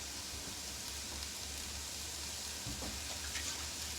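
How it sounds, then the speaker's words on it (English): Pork heating in a pan, a soft, steady sizzle with faint crackle, quiet and continuous with no voices. "all we're going to need to do is kind of heat the pork"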